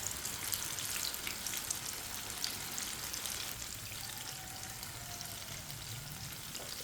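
Chinese pakoras fry in a pan of oil over medium heat, giving a steady, dense sizzle with fine crackling that holds evenly throughout.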